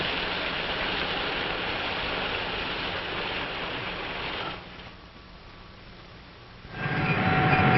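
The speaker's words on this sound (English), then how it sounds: "passenger cars are pulled through an automatic washing machine where they're scrubbed and polished" Passenger railroad cars being pulled through an automatic car-washing machine, a steady broad rushing wash of spray and scrubbing that drops quieter midway, then swells back up near the end.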